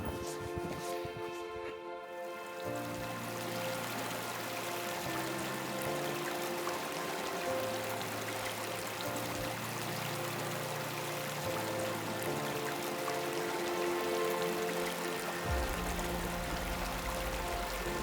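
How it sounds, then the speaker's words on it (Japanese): A partly frozen winter waterfall flows behind a shrine in a snowy hot-spring town in Yamagata, giving a steady, even rush of water that fills the whole stretch without a break. "こちら左側に行くと、この神社の裏に滝が流れてます。"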